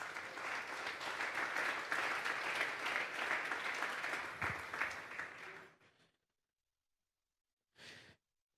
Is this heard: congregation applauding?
yes